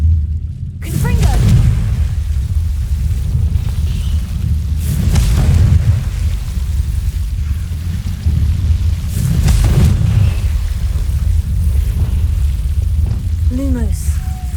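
A Confringo fire spell explodes in the Hogwarts Legacy video game, producing repeated booming blasts with broadband bursts over a low rumbling game soundscape.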